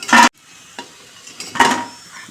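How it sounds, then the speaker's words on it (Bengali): Chicken pakoras fry in a pan of oil as a soft sizzle, broken by two loud scraping stirs and a light clink of a utensil, with no talk. "এই যে ভাজছি, ভাজতে ভাজতেই চলে যাচ্ছে ওই দিক থেকে, খেয়ে নিচ্ছে চিকেন পকোড়া।"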